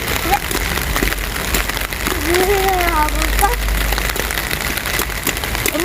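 Steady rain falling outdoors on a rainy day, a constant close hiss of drops on surfaces, with a child's and an adult's voices talking over it.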